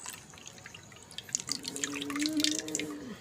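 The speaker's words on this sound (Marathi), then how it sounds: "बघा रस पूर्ण पाण्यामध्ये असं उतरतो" Light crab juice dripping and trickling into water while being strained, close and quiet, with a thin faucet-like stream rising toward the end.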